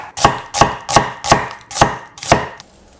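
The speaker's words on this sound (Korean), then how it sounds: "양파 반 개를 살짝 굵게 채를 썰어주고" A knife slices half an onion into thick strips on a cutting board, giving six loud, evenly spaced chops, close and alone.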